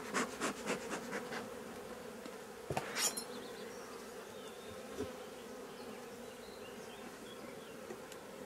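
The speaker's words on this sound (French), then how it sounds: "Donc en dessous on va voir les abeilles." Honeybees swarm and buzz over an opened beehive during a honey harvest, a steady close insect drone with a few sharper taps and knocks partway through.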